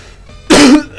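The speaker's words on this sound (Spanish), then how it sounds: "Sí, me tosí." A single harsh cough bursts out close to the mic after a quiet moment, followed by the start of another, from a person playing Donkey Kong Country 2.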